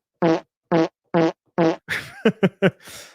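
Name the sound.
fart sound effect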